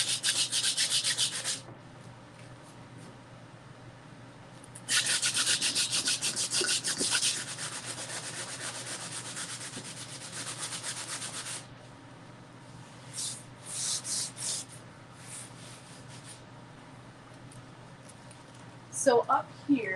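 Sandpaper rubbing on a surface during painting preparation, repeated bursts of scratchy rasping, some long and some short, close by with pauses between them and no talking.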